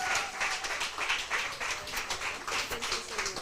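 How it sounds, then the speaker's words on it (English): Audience at a business workshop in Kanyamazane, Mpumalanga, giving a round of applause for a prize winner, soft pattering clapping from a modest crowd, fairly quiet and steady throughout. "Please can we give a round of applause?"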